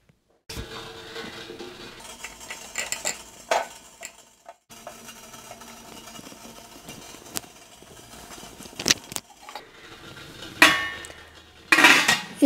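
Whole lemons set into a metal idli steamer pot with boiling water, giving scattered clinks and metallic clatters in short bursts and a couple of sharper clanks near the end, close and moderately loud with no talking.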